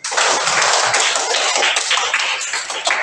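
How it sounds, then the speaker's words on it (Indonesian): A classroom of students claps hands together, a dense, steady patter of many overlapping claps lasting about three seconds with no talking. "Mari kita tepuk tangan."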